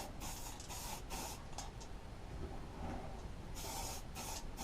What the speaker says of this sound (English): I'll just give that a spray there as well